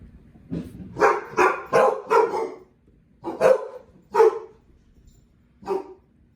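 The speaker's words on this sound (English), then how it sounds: "Sorry, you guys, that's Miss John's dogs" Dogs barking nearby in bursts: a quick run of four barks, a pause, then three more single barks spaced apart, moderately loud with no talking over them.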